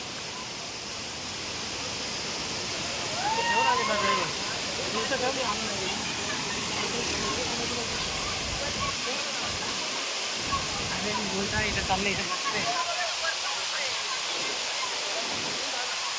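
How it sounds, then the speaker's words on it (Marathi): Bekre waterfall pours in a steady, close, broadband roar of rushing water that runs unbroken for the whole stretch, with indistinct voices of visitors murmuring faintly underneath. "सुंदर असं बेकरे वॉटरफॉल"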